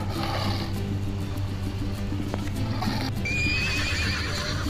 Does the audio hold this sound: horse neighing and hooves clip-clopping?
yes